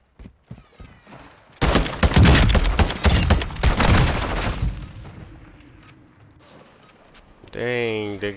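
Rapid bursts of gunfire and booming shots from the video game Call of Duty: Modern Warfare II crackle loud and dense for a few seconds, then fade, with a player talking over parts of it.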